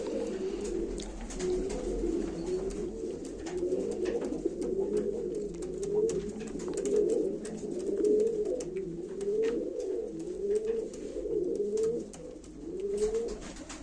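Pigeons at a live pigeon auction coo steadily and repeatedly throughout, a dense layered chorus of soft rolling calls from several birds close by, with no talk over them.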